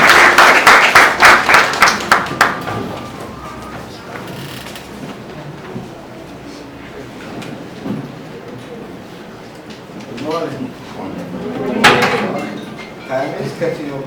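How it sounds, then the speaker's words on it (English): Audience applause for a government minister at a masculinity workshop in Belize City swells loudly for a couple of seconds, then fades away, leaving room noise, shuffling and people speaking. "Could we please give him a round of applause?"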